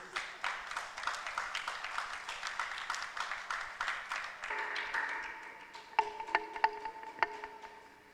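Audience applause for the Collège Immaculée Conception des Gonaïves team at a school match, a steady crowd clapping that thins toward the end into a few louder separate claps.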